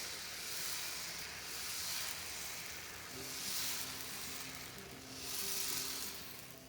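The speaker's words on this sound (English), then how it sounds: "Add 2 ladles of batter and spread it on the pan like you will spread it for a thick dosa." Uttapam batter sizzling on a hot pan, spread thick like a dosa: a steady, fairly soft frying hiss that swells and fades in slow waves, with a faint tonal hum entering partway through and no voices.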